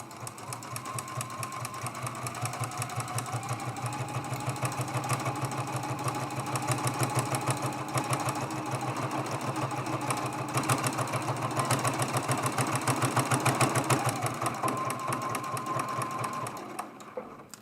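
A sewing machine runs steadily close by, stitching in the ditch of the binding on a small quilted autumn mug rug, its fast even needle rhythm continuing almost unbroken before stopping at the end.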